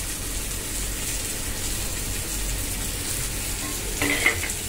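Cut potatoes tipped into a pot of simmering mutton kuzhambu with drumsticks and stirred, giving a steady close bubbling sizzle throughout with a brief brighter scrape of the spoon near the end, no talking.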